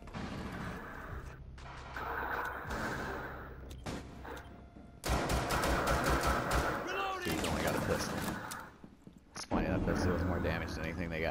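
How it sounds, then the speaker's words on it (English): Bursts of machine gun fire in Rainbow Six Siege gameplay, loud rapid volleys between quieter stretches, with someone talking over the action. "I love how that gun sounds, man."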